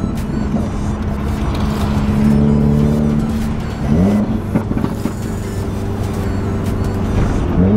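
A Subaru WRX engine revving hard and droning steadily, with rising and falling pitch, close by and loud throughout, during intake carbon cleaning.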